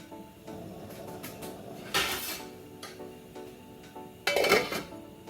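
A lid clanks onto a pot of simmering saffron carrot rice mixture in a home kitchen, two sharp metallic knocks among light clatter of dishes and utensils, close and fairly loud with no talking.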